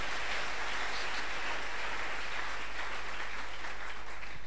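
A church congregation applauds to acclaim the Lord during a worship service, broad continuous clapping that holds steady and fairly distant, with no talk over it.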